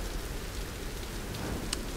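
Rain falling in the Tomb Raider video game, a constant soft hiss of steady downpour with no talk.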